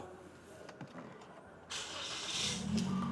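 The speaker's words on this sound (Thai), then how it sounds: "ขออนุญาต สตาร์ทรถให้ดู" A Toyota Yaris 1.2 Sport Premium 2022 engine cranks and catches, settling into a steady idle hum, with a voice talking faintly before it starts.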